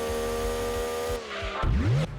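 A car in the video game Gran Turismo 2 revs with a sustained engine whine, then drifts with tires squealing in a rising screech near the end, close and loud.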